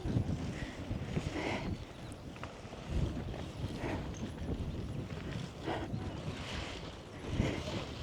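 Steady wind gusting across an open campsite field of tents at a farm touring park, a continuous broadband rush with swelling gusts and no talk.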